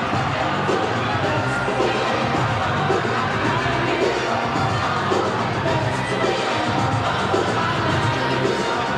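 A packed rugby league stadium crowd roars and cheers continuously after a Canberra Raiders try against the Brisbane Broncos in a 1998 match, a loud, dense and sustained wall of cheering.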